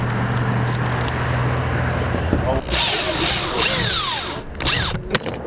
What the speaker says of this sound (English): Let's get the screw gun up here